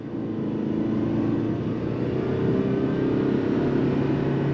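A 2023 Toyota Prius Prime XSE Premium hybrid sedan accelerates uphill under throttle, giving a steady, loud drone of engine and road noise that holds constant throughout with no pauses.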